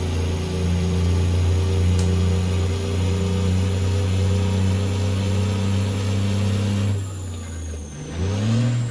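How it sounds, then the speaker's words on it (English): Cat C-12 diesel engine in an American Truck Simulator rig hauling a heavy load of dirt in Canada, droning steadily with a deep low rumble that shifts pitch near the end as the truck slows and pulls again. "That's a lot of weight for this engine"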